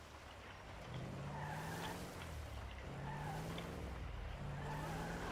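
A vehicle skids with screeching tires in the GTA V video game, likely as a big cat collides with it. Repeated rising tire squeals stand over a steady engine-like drone, loud and close, with no talk.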